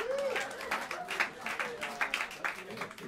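Crowd applause at a small New York jazz club after band introductions, steady close clapping and a few shouts, heard alongside talking voices.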